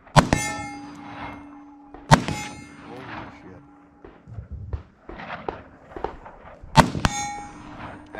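Sharp metallic pings of bullets striking steel targets at a shooting range, three or four loud hits with ringing decay, separated by short gaps and muffled distant gunfire.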